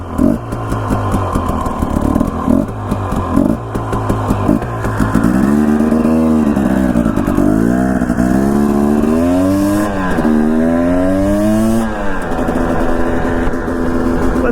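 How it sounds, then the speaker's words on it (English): A two-stroke motorcycle ridden on paved streets in Idaho, its engine droning loud and close throughout with rising and falling revs as the rider shifts and accelerates. "riding my two-stroke on the street"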